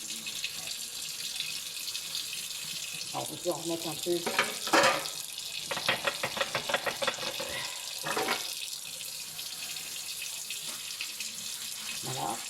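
Dishes being washed by hand in a sink with foamy solid dish soap, running tap water splashing and rattling in irregular bursts, with a person speaking briefly over it.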